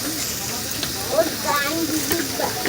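Jujube (kul) pickle cooks in a pan over a very low flame, giving a steady soft sizzle and hiss with faint scraping from a spoon, while a voice murmurs in the background.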